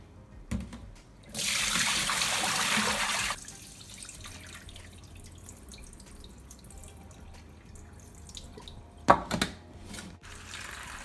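Tap water runs into a bowl for washing fresh homegrown tomatoes, a steady two-second rush followed by quieter kitchen sounds and a brief splash near the end.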